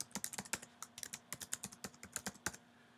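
Fingers typing a web address on a computer keyboard, a quick uneven run of about twenty close, crisp key clicks spread over three seconds, with no voices.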